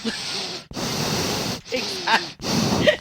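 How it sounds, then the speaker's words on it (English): Michael Myers breathes heavily in the 1978 film Halloween, with four slow, close, rasping breaths in a steady in-and-out rhythm. "And then you just hear him breathing."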